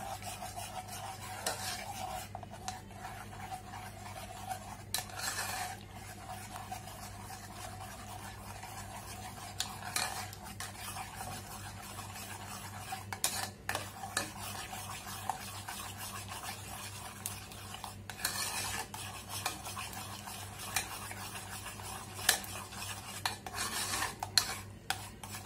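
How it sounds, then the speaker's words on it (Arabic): A spoon stirs cocoa in a heating pot, giving a continuous soft scraping and rubbing with occasional louder clinks against the metal, steady over a low hum, with no talk. "اول ما ابتدت تسخن هنزل معلقه كاكاو، وهفضل اقلب"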